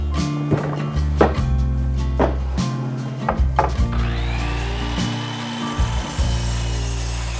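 Handsaw cutting through wood to trim the top of a kitchen cabinet, close and loud, with uneven rasping strokes and brief pauses between passes.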